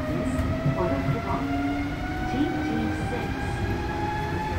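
A Tama monorail train running toward Tama Center, heard from inside the car: a steady loud rumble with whining motor tones and faint rolling clatter, with announcement-like speech faintly underneath.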